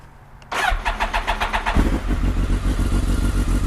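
A 2008 BMW K1200S motorcycle engine is cranked by the starter, catches and settles into a loud, steady, throbbing idle, heard up close after a short quiet start.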